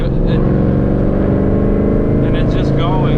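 An 800hp Whipple supercharged Mustang engine holds a loud, close rumble around 2,500 RPM with light throttle, its deep drone running continuously while a person speaks briefly over it.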